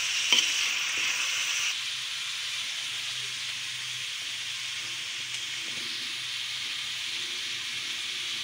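Garlic paste frying in oil in a pan gives a steady, close sizzle and hiss that holds evenly throughout, with a brief clatter of stirring near the start.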